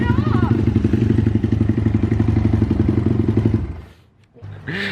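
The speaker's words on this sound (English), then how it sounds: "we won't rev it too much because our neighbors are sensitive to loud noises" A dirt bike engine runs loud and close with a rapid, steady pulsing beat, holding revs for almost four seconds before it cuts out briefly and then picks up again.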